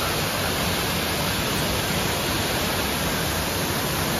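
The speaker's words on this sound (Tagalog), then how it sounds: "Balagbag Falls." Balagbag Falls in Quezon province pours down in a steady, dense roar of rushing water that continues without pause at a constant level throughout.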